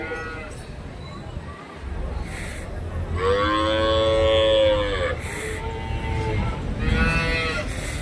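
Cattle moo at the Orappam cattle market in Krishnagiri district, Tamil Nadu, with two long, close, loud moos and a shorter third one rising over a noisy crowd and nearby talk.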